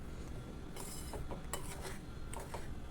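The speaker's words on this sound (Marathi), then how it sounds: "तर या पद्धतीने मी थोडी थोडी करत सर्व साखर रव्यामध्ये मिक्स करत आहे" A spoon scrapes and clinks against a metal pot while powdered sugar is mixed little by little into semolina for rava ladoo, soft irregular scraping strokes with a few brighter taps over a steady background hiss.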